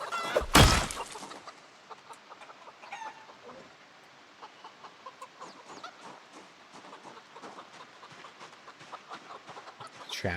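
Chickens cluck in frequent short, irregular calls at moderate distance, opening with a sharp loud crash or clatter, then continuing in steady clucking with occasional louder squawks.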